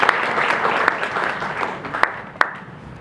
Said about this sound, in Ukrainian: давайте ми її привітаємо оплесками